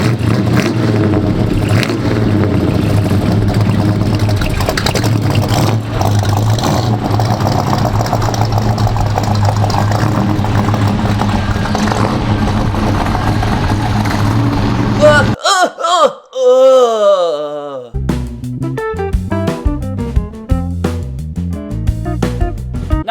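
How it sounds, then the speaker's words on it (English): A 1970 Buick GS 455 Stage 1 V8 rumbles with a deep, loud exhaust burble, then drops away before a series of sharp revving blips climb and fall near the end. "just grab a box of tissues and listen to this exhaust clip"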